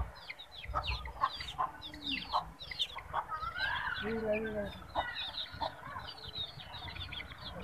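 Chickens cluck in a village coop, with a run of close, busy, overlapping clucks and calls that rise and fall over several seconds.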